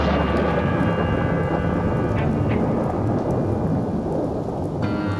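A thunderstorm sound effect for a radio play: dense, heavy rain pours continuously under deep rolling thunder, loud and close throughout with no voices.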